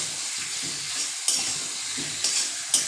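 Sweet potato pieces sautéing in a pan for a curry, a constant sizzle with a few sharp spatula scrapes and clicks at intervals.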